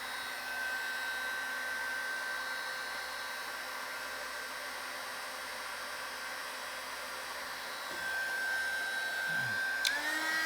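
A 350W mini heat gun blows a steady, even hiss of hot air while shrinking heat shrink tubing, constant and moderately quiet throughout with a faint whine and a small clunk near the end.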